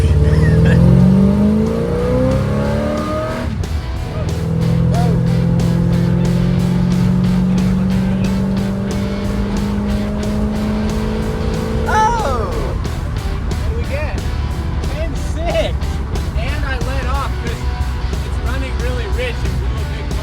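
A 1955 Chevy with a big cam launches in a drag race, its engine roaring and revving up through several gears with rising pitch, loud and close, while excited voices talk over it.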